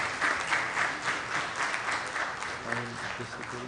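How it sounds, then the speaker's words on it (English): A hotel ballroom audience at a book launch applauds a speaker, a fairly faint, even patter of many hands with a low hum and murmuring underneath. "Big applause for him."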